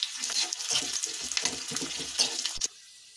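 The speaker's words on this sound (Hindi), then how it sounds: "ये हमने एक छोटा प्याज को लंबे में कट करा है और इसे मैं थोड़ा सा भून लूंगी प्याज को" Onion slices frying in hot desi ghee in a small saucepan give a steady close crackling sizzle with stirring clatter, cutting off abruptly near the end.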